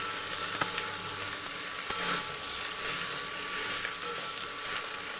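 Ridge gourd and potato sizzle gently in a fish curry pan, a soft steady frying hiss with occasional spatula knocks and stirring scrapes, fairly quiet and without speech.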